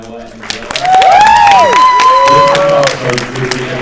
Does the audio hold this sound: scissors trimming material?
no